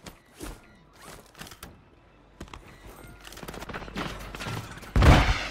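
Gunfire from the Striker SMG in the video game Call of Duty Warzone: sporadic single shots and short bursts, with a louder close burst at the end.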